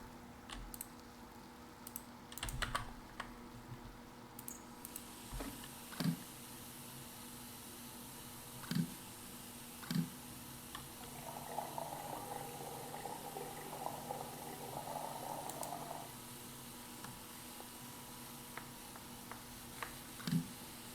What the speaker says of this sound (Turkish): Şimdi bunun içine su koyacağız.